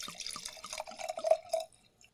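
Kokuryu sake pours into a wine glass nearby in a short, trickling, glugging stream with bright splashy drips, then stops and leaves near silence.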